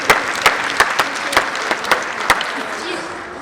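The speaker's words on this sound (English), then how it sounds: "yeah, we should clap for that." Scattered, sparse claps ring out at a graduation ceremony, a few sharp distinct hand claps spaced irregularly over a soft room murmur, fading out toward the end.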